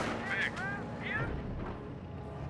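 Rangers' rifle fire in the Company of Heroes strategy game, a few distant gunshot bursts and booms under a steady battle din, with a voice commentating over it.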